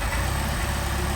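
A Mercedes 190SL engine with Solex carburetors idles too high at about 1400 RPM, fast and steady, a continuous rough hum with no pauses and no voices.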